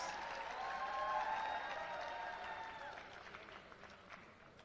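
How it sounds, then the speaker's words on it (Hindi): An audience at a school folk dance competition claps and cheers, a faint, distant wash of applause with some whistling tones and voices mixed in, gradually thinning toward the end. "जोरदार तालियां हो जाए केडी के लिए"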